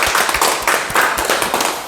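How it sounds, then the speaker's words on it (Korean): A small audience at a Korean lecture claps close to the microphone, loud and uneven, with a few sharp, distinct hand claps rather than a smooth wash of applause. "큰 박수 부탁드립니다"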